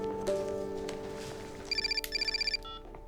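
A telephone call is placed from a bank counter, bringing a quiet hum and then faint, rapid pulsed ringing tones in two short bursts near the end.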